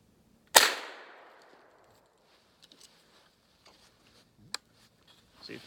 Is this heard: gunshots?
yes